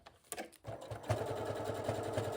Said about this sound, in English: I'm just going to quickly stay stitch these in place just so they don't move